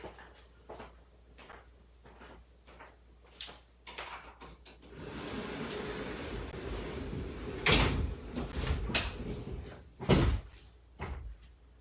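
Studio doors are closed in a quiet room, with a series of clattering knocks and sliding thuds building to louder bangs near the end, heard alone without talk.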